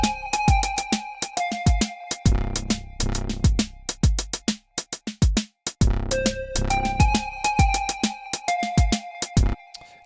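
A Dirtywave M8 tracker song plays with a triplet swing groove, punchy drum hits and bass thumps under sustained synth tones, looping in an uneven shuffled rhythm with a couple of brief gaps.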